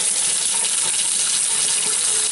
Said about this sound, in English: So I'm pouring all that grease down the drain.